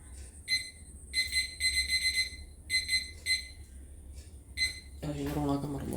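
A trading timer alarm goes off in repeated beeping bursts, clear and fairly close, and a voice comes in at the very end.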